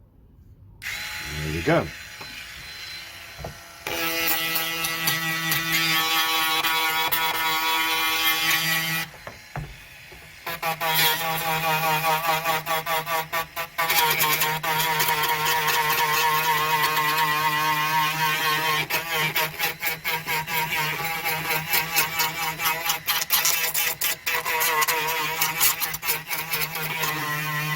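A power tool whines steadily while roughening the plastic of a bike fairing, running in long bursts with a short break and brief stops, close and loud, with a short spoken remark near the end.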